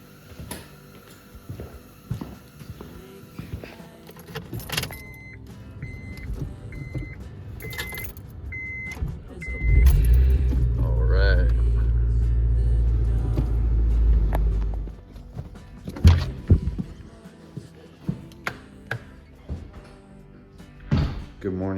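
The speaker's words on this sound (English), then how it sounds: "we're gonna pull the Civic in and get that all straightened out" A Honda Civic pulls into a cold winter garage, its engine rumbling loud and steady for several seconds before settling, with keys jangling, door clunks and someone talking around it.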